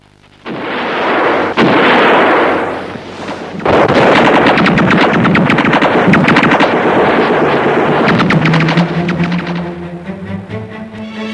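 Loud bursts of gunfire, rapid automatic fire mixed with heavy booming shots, sustained for several seconds before tapering off with scattered rattles.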